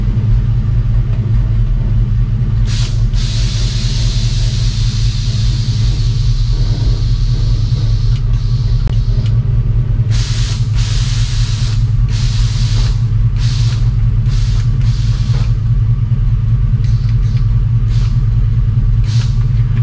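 Engine and exhaust of an LS-swapped, air-bagged Chevrolet C10 pickup on a test drive, a loud, steady low rumble throughout with intermittent hissing bursts over it.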